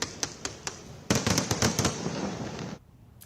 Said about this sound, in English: Fireworks and sparklers are just one part of the celebrations.